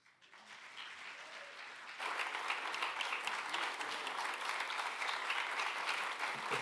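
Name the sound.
audience applause after concert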